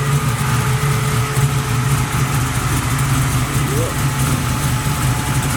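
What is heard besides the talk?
Buick Regal small block V8 engine idling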